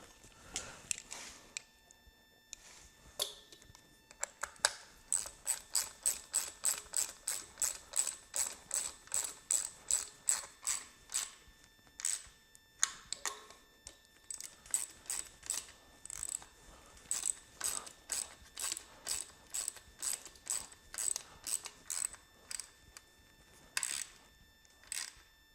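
A ratchet tightens lock nuts while a water pump impeller is being replaced, giving long runs of rapid, close clicking strokes with short pauses between bursts.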